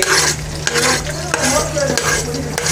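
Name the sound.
onions being added and stirred in a frying pan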